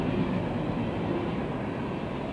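An old freight train of boxcars, many from fallen-flag railroads, rolls past close by with a steady, loud rumble and grinding wheel noise that holds constant throughout.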